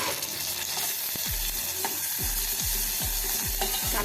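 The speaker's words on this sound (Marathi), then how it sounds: "आपण थोडा परतून घेऊया गुलाबी रंगाचा होईपर्यंत" Chopped onion and crushed garlic sautéing in a hot pan, a dense continuous sizzle with a few stirring scrapes of a spoon, close and loud, no voices.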